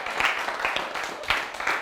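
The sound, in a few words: audience clapping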